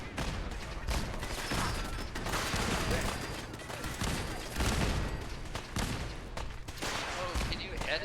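Sustained gunfire in a Fallout 4 battle, with rapid bursts and cracks continuing for eight seconds and voices speaking amid the shooting.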